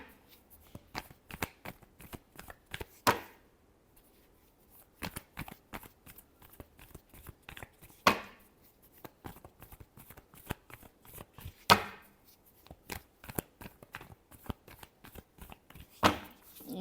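Tarot cards are shuffled by hand, a quiet, close series of crisp riffling bursts and soft flicks with short pauses between them, heard alone.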